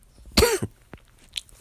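A single sharp cough, close and fairly loud, followed by a brief throat sound and quiet.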